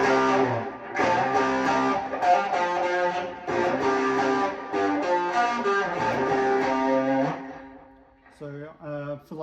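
An electric guitar runs through a Dark Matter distortion pedal, playing dense, sustained distorted chords in a steady rhythm for several seconds, then fading out as a voice briefly speaks.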